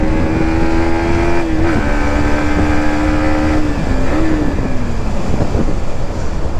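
A Yamaha MT15 V2 motorcycle fitted with its stock exhaust, its engine a loud close drone that holds a steady pitch, dips briefly twice and picks back up, with no speech.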